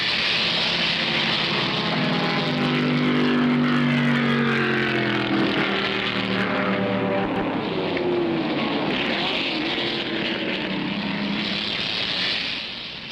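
Cobra Daytona Coupe and Chaparral race cars roar past on the Daytona back straight, a continuous loud engine drone with shifting pitch sweeps as the cars pass, sustained throughout and fading slightly at the end.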